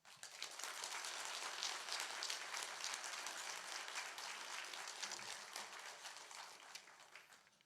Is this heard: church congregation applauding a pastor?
yes